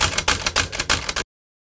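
A typewriter clatters through a quick burst of about six keystrokes in an uneven rhythm, loud and close, then stops abruptly into silence.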